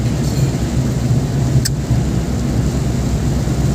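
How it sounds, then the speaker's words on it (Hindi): Heavy rain pounding down in a village in India, a loud continuous roar with a low rumble underneath and a brief sharp click in the middle. "और यहाँ तो ज़बरदस्त वाली बारिश हो रही है,"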